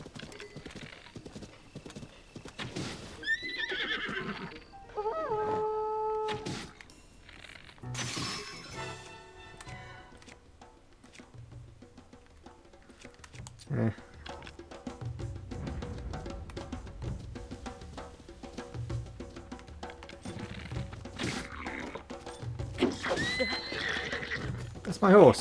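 Horse whinnies and clip-clopping hooves from Tears of the Kingdom gameplay, several neighs rising over trotting hoofbeats with clangs and game effects, while a player talks over them.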